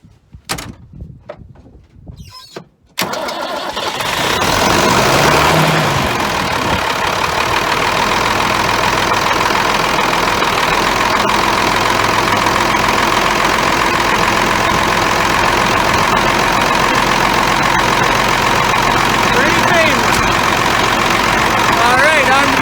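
A Ford TW-20 tractor's diesel engine cranks briefly with a few clunks, catches, then settles into a loud steady idle that runs on for nearly twenty seconds.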